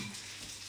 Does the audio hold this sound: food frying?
yes